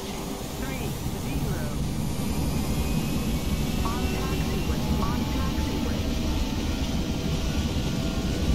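Airbus A320 jet engines at takeoff power in a flight simulator: a loud, continuous broadband roar that holds steady for the whole stretch, with faint voice traces under it.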